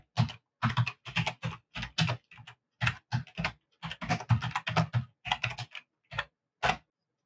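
Fast typing on a computer keyboard while writing CSS code, crisp close key clicks in short uneven bursts separated by brief pauses, with no voice.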